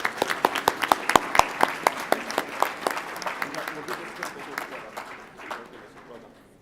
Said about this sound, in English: a round of applause for our supplementary school teachers